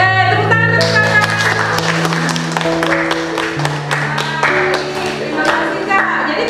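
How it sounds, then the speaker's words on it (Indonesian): A classroom of students claps for a fellow student, a fairly loud patter of hand claps mixed with a sustained tone and scattered taps, close by and continuing throughout. "Oke, tepuk tangan untuk Kakak"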